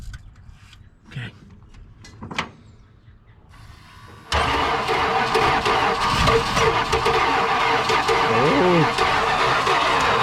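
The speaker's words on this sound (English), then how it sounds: "Turn the pump on." A pump motor on a flame-throwing Dodge D-200 crew cab truck kicks on abruptly after a few faint clicks and knocks, then runs as a loud, steady whirring drone, with a brief spoken exclamation.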